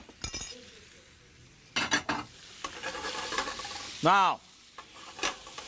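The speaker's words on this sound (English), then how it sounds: "I got some rock shrimp from the Gulf, little oil, and we're going to start sauteing" Gulf rock shrimp sauteing in a little oil in a pan, with faint sizzling, utensil clinks and stirring scrapes, a few louder pan knocks and a brief tonal squeak, while someone speaks briefly.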